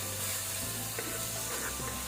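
Tomato, ginger and garlic paste fries in a pan, giving a steady, close sizzle with faint stirring scrapes and no talking.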